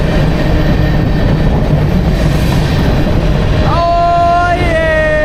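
A train rumbles past at very close range with a loud, continuous roar and rattle, and a multi-tone horn sounds near the end; no speech stands out over the noise.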